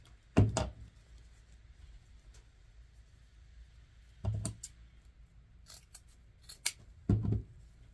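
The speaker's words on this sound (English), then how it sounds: "I think I'm going to trim these tails up just a little bit." Scissors trim the tails of blue and natural mesh wreath ribbon in three crisp, close snips spaced a few seconds apart, with quiet between cuts and no talking.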